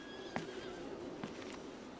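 A horse whinnies in a Karbala battle drama, two short neighing bursts ringing out at about a third and again past a second and a quarter, fairly faint against a steady low background hum.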